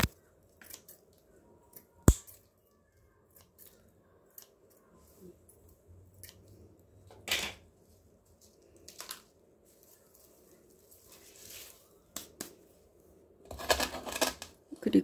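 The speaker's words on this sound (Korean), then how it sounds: "가위는 항상 가위 소독해서 얘도 적당한 길이로 뿌리를 잘라냅니다." Scissors snip through table palm roots while the plant is being repotted, giving sparse crisp cuts spaced several seconds apart, close and fairly quiet, with a short burst of rustling and snipping near the end and no talk.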